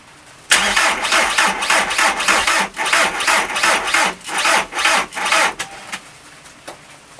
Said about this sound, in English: I'm going to crank her over now, see what she does.